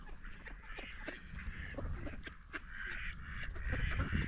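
Mallard ducks at a Toronto waterside gather close around, giving frequent overlapping quacks and honking calls against steady outdoor background noise.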